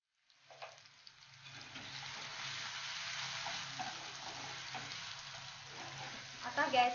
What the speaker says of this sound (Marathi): आता गॅस स्लो करून आपण 1 मिनिट टोमॅटो शिजू देऊया।